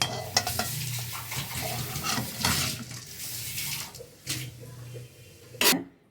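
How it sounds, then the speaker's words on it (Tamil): Urad dal frying in hot oil in a home kitchen, a soft steady sizzle broken by a few clinks of a utensil against the pan. "எண்ணெய் நல்லா காஞ்சிருச்சு. இப்போ உளுந்து பருப்பு போடலாம்."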